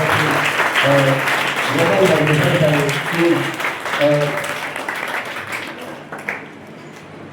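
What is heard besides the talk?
audience applause welcoming a guest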